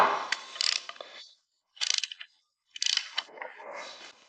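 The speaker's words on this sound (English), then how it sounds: "Here I have the torque wrench and we are going to tighten it to 12" A torque wrench tightens the relief valve bolts on the oil filter housing of a Mercedes 180, giving three short bursts of close ratcheting clicks separated by silence.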